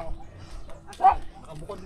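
Somewhere nearby a dog gives a single short bark, brief and fairly faint, with people talking around it and low background noise.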